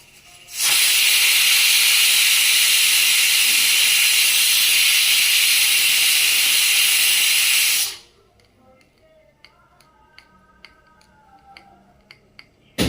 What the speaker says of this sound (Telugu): టూ విజిల్స్ అయిపోయినాయండి అయిపోయి ఆవిరిపోయింది